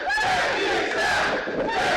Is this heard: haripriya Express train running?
no